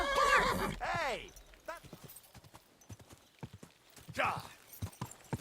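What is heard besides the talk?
horse in video game Kingdom Come Deliverance 2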